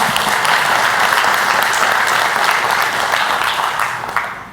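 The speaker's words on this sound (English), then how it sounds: "All right, you could applaud for that." Dense, loud audience applause filling the room at a live event, sustained clapping that tapers off toward the end.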